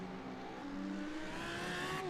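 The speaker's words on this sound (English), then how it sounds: "That was Mark Murphy's Lamborghini that you could just hear there" Lamborghini GT3 race car in a racing game at Imola, its engine note rising and sliding in pitch as it sweeps past at moderate distance, a steady mechanical drone with no speech.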